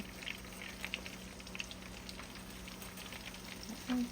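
Chicken patties frying in hot oil in a pan, a faint steady sizzle with scattered small pops and crackles, no talking.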